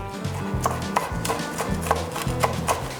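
A knife chops food on a cutting board in a home kitchen, a steady rhythm of crisp, close strikes, roughly two per second, with no talking.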